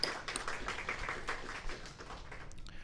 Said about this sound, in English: Let's give a round of applause for Dr. John.